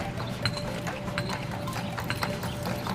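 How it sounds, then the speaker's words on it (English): Horse hooves clip-clop steadily on a street among riders on Mackinac Island, with an even, moderately close rhythm over continuous outdoor background noise. "Look at the people riding horse."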